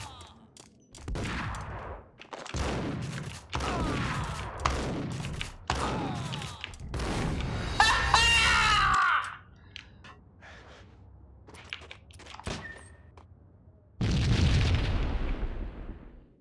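Gunfire and explosions in the video game Max Payne: a string of loud, sharp booming bursts, one after another, then a quieter stretch with scattered pops, and a final heavy blast near the end.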